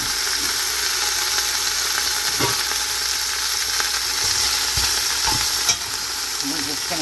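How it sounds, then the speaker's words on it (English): Partly frozen beef stew meat sears in a hot pot, a steady broad sizzle running throughout with occasional small clinks and stirring scrapes, close and alone with no talking. "We're just going to put it in there and let it sear."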